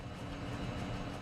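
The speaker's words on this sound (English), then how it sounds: "No, that is the dryer." A clothes dryer running loudly with a deep, steady rumble that sounds like a passing train, continuous and close throughout with no talk.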